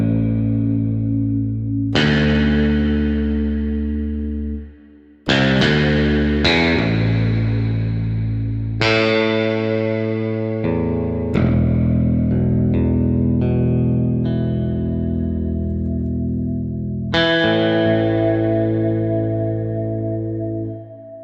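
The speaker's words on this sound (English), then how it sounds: "we have the baritone guitar, which again is a wonderfully sampled instrument" A sampled baritone guitar from the E-Instruments Desolate Guitars library plays loud, ringing low notes and chords with effects-laden sustain, struck about every couple of seconds across the passage, with sharp attacks and long decays.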